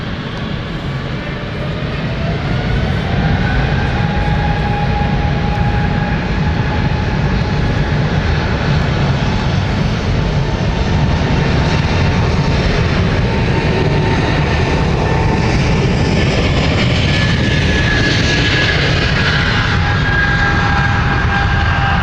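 A jet airliner departing London City Airport roars steadily throughout, its engine whine holding loud and close with rising tonal lines, with no voices over it.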